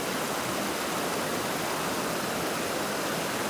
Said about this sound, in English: you have all the rapids, that white water